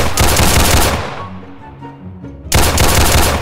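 Heavy gunfire from a Roblox hood game, loud bursts of rapid shots at the start, a brief lull with fading echoes and tonal game sounds, then another loud volley cutting back in.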